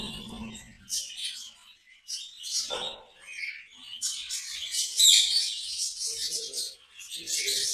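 A parrot in an open aviary gives repeated sharp, high chirps and squawks in bursts, fairly close, with a person talking softly at moments between the calls.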